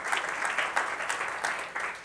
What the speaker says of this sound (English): Oh, clap. You got to clap.